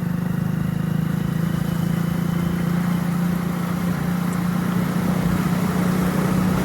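Slow traffic crawls along a potholed highway diversion with roadworks, heard as a continuous low engine drone, close and unchanging throughout.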